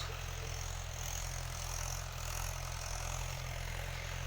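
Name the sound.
tractor running in a field during sowing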